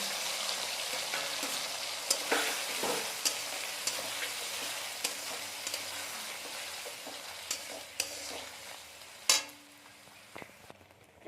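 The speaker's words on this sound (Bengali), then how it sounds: "এবার আমরা এর মধ্যে দিয়ে দেবো মিক্সিতে পেস্ট করা মশলাটা এবার দিয়ে দেবো টমেটো কুচি" Spice paste from a mixer and chopped tomato frying in a pan for a rajma dish cooked with mutton fat, a steady close sizzle with scattered sharp stirring clicks and scrapes throughout.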